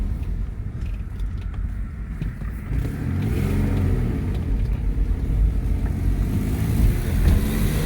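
A loud car engine rumbles while driving, a deep steady drone that swells as the car picks up speed partway through, with no talking over it.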